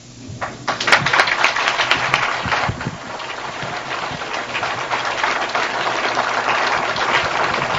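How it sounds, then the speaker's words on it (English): A lecture audience breaks into sustained applause at the end of a talk, a dense crowd of clapping that swells quickly and then holds steady and loud for several seconds in a hall. "let's give him another warm round of applause"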